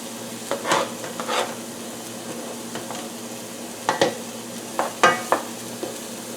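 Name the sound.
garlic added to a hot pan, sizzling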